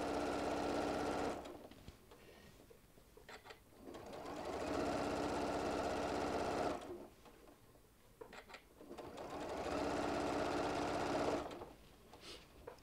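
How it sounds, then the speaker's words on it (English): A sewing machine top stitches a small bean bag, running in three long, loud, steady whirring bursts separated by brief pauses with soft handling clicks, close by with no talk. "I'm just going to top stitch this down."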